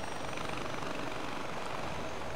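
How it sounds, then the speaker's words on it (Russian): Continuous whirring rotor and engine drone of a helicopter in the video game Far Cry 4, steady and moderately loud throughout with no talk. "Еще один вертолет вижу."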